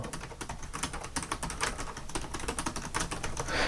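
Steady, rapid typing on a Samsung Notebook 5 (NT560XAA-X54A) laptop keyboard: a dense run of light key clicks with no pauses and no voices.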